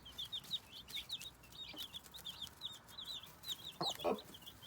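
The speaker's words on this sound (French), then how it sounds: "la poule qui se remet au nid" Hen clucking softly as she settles back onto her nest among chicks, with repeated high peeping chirps from the chicks throughout and a couple of low clucks near the end, quiet and close.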